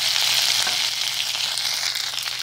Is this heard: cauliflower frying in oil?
yes